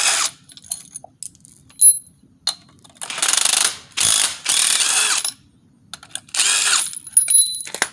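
A ratchet wrench with an 11 mm socket undoes crank pulley bolts on a 3.8L 3800 Pontiac Grand Prix, producing several bursts of rapid close clicking with short pauses and small metallic taps between them, no talk.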